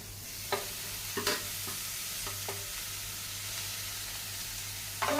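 Tomatoes fry for a jackfruit seed curry, giving a soft steady sizzle under a low background hum, broken by a few light stirring clinks and scrapes; no one speaks.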